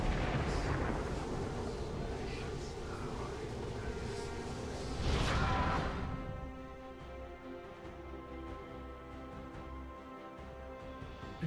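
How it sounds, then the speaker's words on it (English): Turret being destroyed in League of Legends, a loud rumbling blast and crumbling burst that swells around the middle and then cuts to quieter game ambience. "Blue team's turret has been destroyed"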